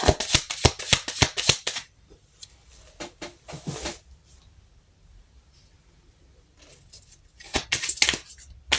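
Tarot cards shuffled by hand, rapid crisp riffling bursts at the start, scattered softer flicks in the middle, then another quick run of riffles near the end, close and clear with no talking.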